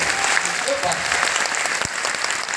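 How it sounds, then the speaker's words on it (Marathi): Loud applause from the audience at a lavani dance show, a dense, steady clatter of clapping hands sustained throughout the short stretch. "एकदम खडखडी टाळ्यांचा आवाज आहे"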